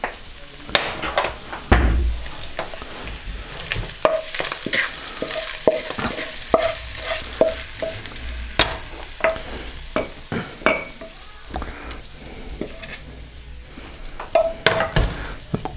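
Bacon fries in a pan while a spoon stirs it, giving a continuous crackling sizzle broken by repeated sharp scrapes and clinks against the pan, close and fairly loud.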